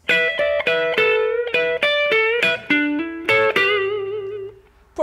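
Distorted electric guitar plays the fourth lick of a guitar solo, a quick run of about a dozen sharply picked notes in steady rhythm, ending on a long held note with vibrato, loud and alone.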